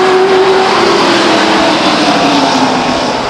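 Race cars roar off the start at Stockton 99 Speedway in 1999, a loud sustained engine drone with a rising whine as the field accelerates away, no voices over it.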